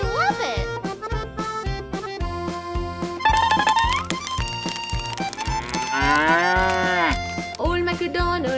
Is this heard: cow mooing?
yes